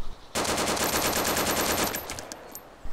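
AK101 rifle in a video game firing a rapid fully automatic burst of about fifteen rounds, loud and close with an even rhythm, then a brief ringing tail and a couple of faint clicks.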